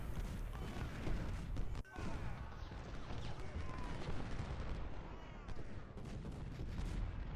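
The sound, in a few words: artillery exploding shell fire in video game Ultimate General: Civil War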